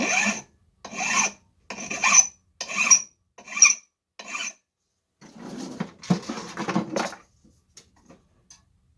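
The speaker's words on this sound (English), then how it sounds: "start by filing the top of it off flat" A hand file rasps across the top of a shop-made broken screw remover tool held in a vise, about six steady back-and-forth strokes, then a softer, quicker run of scraping before it trails off into quiet.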